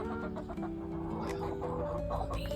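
Backyard chickens clucking close by in the coop, a dense overlapping run of hen clucks and calls lasting a couple of seconds, with no speech.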